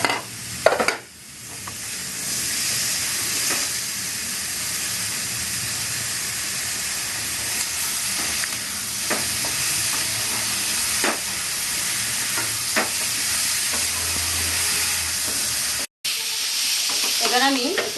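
Eggplant pieces frying in oil in a pan for a Bengali prawn curry with drumsticks, giving a steady close sizzle with occasional stirring clatters and a brief break near the end.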